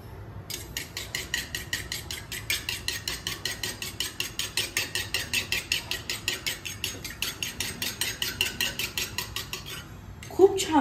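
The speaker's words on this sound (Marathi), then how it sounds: "बघितलं किती छान फेटलं गेलं काटे चमच्यामुळे" Eggs for an omelette are whisked with a fork in a bowl, producing a fast, even run of close metallic clicking strokes that lasts about ten seconds, ends abruptly and has no speech over it.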